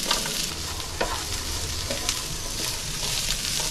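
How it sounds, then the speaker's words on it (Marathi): Onion fries in a little oil for misal with a continuous, moderately quiet sizzle. A few sharp clinks of stirring rise above it, and no voices are heard. "आता याच्यात थोडासा आहे ना तेल टाकते कांदा भाजायला."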